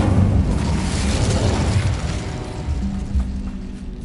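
Incendio fire spell in the video game Hogwarts Legacy, a loud roaring blast that bursts at once and rumbles on, slowly fading over several seconds.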